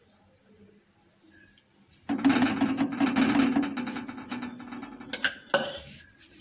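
Milk and bread paste being stirred in a pan over medium-low heat: a quiet start, then a spoon scraping and clinking against the pan in continuous close strokes, with a few sharper knocks near the end.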